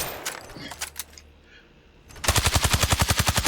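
An M4 carbine fires full auto in the video game Zero Caliber, a rapid, loud, evenly spaced burst of shots filling the final second after quieter clatter and faint talk.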